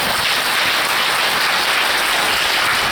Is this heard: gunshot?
no